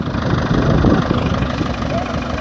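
A tractor pulling a plow for soil preparation, with its engine running hot, idles with a steady, low, rumbling drone up close while voices talk over it.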